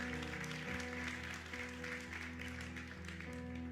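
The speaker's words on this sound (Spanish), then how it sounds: "Alguien que le dé un fuerte aplauso a Dios, por favor." Church congregation applauding together, a dense, continuous wash of clapping that holds steady and sounds somewhat distant, over a low background hum.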